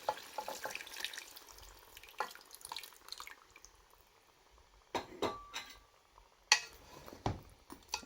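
Broth is poured into a tomato sauce, with drips, splashes and a few clinks of kitchenware in several quiet, uneven bursts, close by and without talk.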